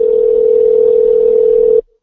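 A steady telephone call tone holds at one pitch, loud and unbroken, then cuts off abruptly before a voicemail picks up.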